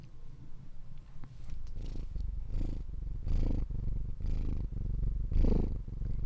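A cat purrs close to the microphone in a steady, rumbling rhythm of repeated breaths, growing slightly louder toward the end.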